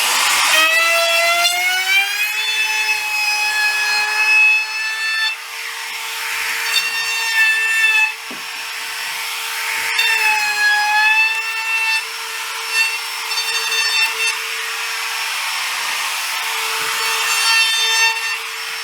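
Router with a roundover bit shaping the front edges of a wooden shelf, a high steady whine with cutting rasp that dips and swells as the bit passes along the wood, loud and close.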